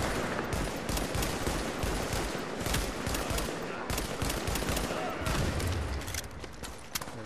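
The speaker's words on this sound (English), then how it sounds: "I'm not even shooting at him. I'm like missing every single shot." Dense, continuous gunfire fills a street battle in The Division's Dark Zone, rapid overlapping shots and bursts crackling throughout, with voices mixed in underneath.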